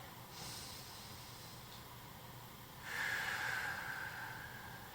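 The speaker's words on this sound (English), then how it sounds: "One more deep breath in here." Soft, slow breathing during a yoga happy baby pose: a faint airy inhale, then a longer, louder breath out, heard alone and close in a quiet room.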